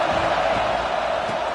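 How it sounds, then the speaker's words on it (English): A stadium crowd in a football video game roars loudly and continuously, a dense sustained wash of cheering with no distinct voices standing out. "This crowd bringing an ear-splitting welcome to their visitors."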